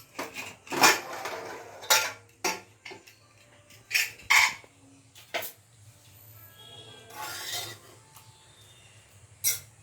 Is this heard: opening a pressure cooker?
yes